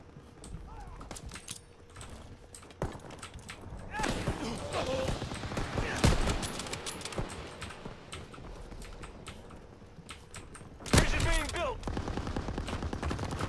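Explosions and bursts of gunfire from frag grenades going off in Call of Duty WWII gameplay, with a dense cluster of blasts in the middle and a louder sharp burst near the end, under continuous game noise.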